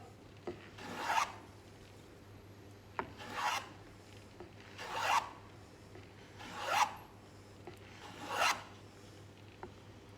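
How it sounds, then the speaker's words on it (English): A hand plane chamfers the edge of a wooden float in six evenly spaced rasping strokes, each a short swelling scrape, close and fairly quiet, with no talk. "Usually you end up planing more off the far side than you do the closer side"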